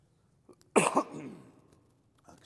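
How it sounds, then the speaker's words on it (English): A single sharp cough from one person in a church setting, close and brief, with a faint breath before it and quiet afterward. "Excuse my cough there."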